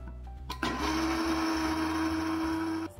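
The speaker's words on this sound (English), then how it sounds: "And I whiz it up in a coffee grinder." A small electric coffee grinder grinding soaked fenugreek seeds whirs loudly for a few seconds after a couple of brief clicks, a high steady buzz that stops at the end.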